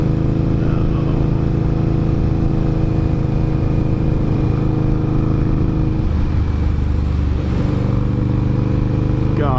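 A motorcycle engine idles and runs steadily up close, a loud continuous rumble with a slight shift in tone partway through and no talk.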